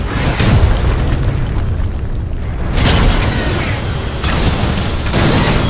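A heavy boom and rumble from a Titan drop landing impact in the video game Titanfall 2, with loud, dense crashes and a second surge of impact noise partway through.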